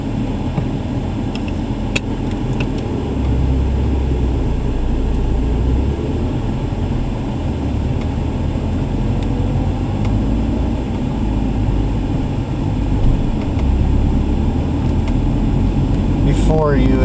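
A 1990 Toyota Corolla with a newly replaced transmission cruises on the freeway, a steady low engine and road drone running the whole time while someone talks over it.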